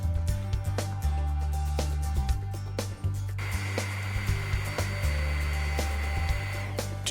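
A Huck 940 Powerig hydraulic unit runs steadily with its trigger held, a loud continuous motor hum with low tonal drone, a brief dip partway through and a higher hiss joining in later.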